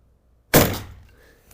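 A single sharp shot from a 9mm Flobert Anschutz 1365 rifle, sudden and loud after near silence, with a short decaying tail.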